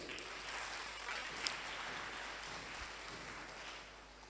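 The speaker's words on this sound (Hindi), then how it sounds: "कोई नहीं, एक जोरदार ताली आप सबके लिए।" Steady, faint applause from an audience at a DXN business meeting, an even wash of clapping lasting several seconds and easing slightly toward the end, with no talk over it.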